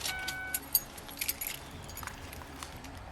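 Car keys jangle and clink in short bursts as they are handed over from a car on a wet roadside traffic stop, fairly close but light, with a faint background hum.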